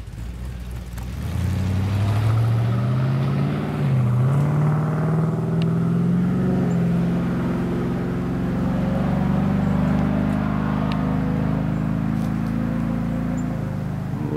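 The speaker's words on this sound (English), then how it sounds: "A little hopped up S10. Y'all hear that?" A hopped-up Chevrolet S10 pickup fitted with a V8, likely an LS motor, idling then revving up, a deep rumbling engine note rising in pitch and holding steady, heard from nearby outdoors.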